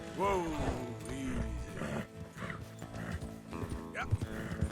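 Horses in the video game Red Dead Redemption 2, with a whinnying neigh near the start and soft hoof clip-clops throughout, mixed with background music and occasional game sounds; no one speaks.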